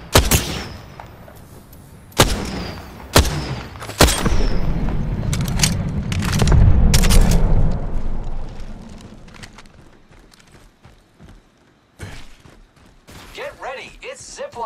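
Gunfire in the battle royale game Apex Legends: several sharp, loud shots in a spaced rhythm, then a sustained rumbling burst of firing, quieter stretches and a final cluster of crisp bangs near the end.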